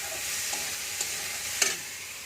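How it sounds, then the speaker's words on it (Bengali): Pumpkin pieces fry in a pan, a soft steady sizzle broken by a few distinct scraping stir knocks, close and fairly quiet, with no talking. "কুমড়োই ভাজা করছে"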